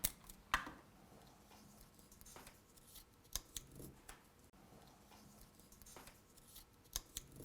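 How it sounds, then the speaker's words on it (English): Decorative paper being wrapped around a bar of soap and taped tight, with soft crinkling and rustling, a few sharp snips and tape clicks, near and fairly quiet, with no talking. "we put a real pretty paper on it. So you're going to do this and tape it as tight as you can get it"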